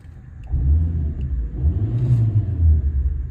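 A car engine with 98,000 miles rumbles steadily at low pitch, settling into an idle after a brief rise in revs.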